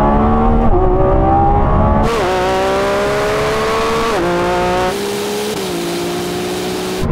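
A Lamborghini Revuelto and a Ferrari 296 or SF90 in race mode with manual gearbox accelerate hard from 30 mph in second gear, one engine note climbing loudly with several sharp upshifts, close and continuous.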